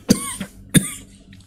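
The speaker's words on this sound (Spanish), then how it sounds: "¡Oh, Dios mío, la tos!" Two sharp, close coughs about half a second apart, each followed by a rougher, softer catch in the throat.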